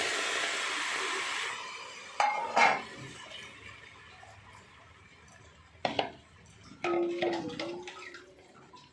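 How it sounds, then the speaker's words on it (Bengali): Chicken going into a pressure cooker during home cooking, with metal pots and utensils clinking in a few sharp bursts between quieter stretches of kitchen noise and a running hiss at the start. "এবার চিকেনটাকে আমি কুকারে দিয়ে দিলাম"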